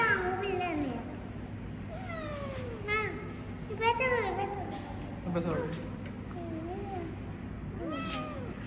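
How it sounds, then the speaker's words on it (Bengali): Repeated hungry cat meows, several close and clear, rising and falling, with background voices and room noise throughout. "বিড়ালটার তো ক্ষুধা লাগছে"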